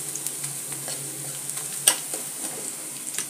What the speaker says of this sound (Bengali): আর এখানে পেঁয়াজ রসুন ভাজা হচ্ছে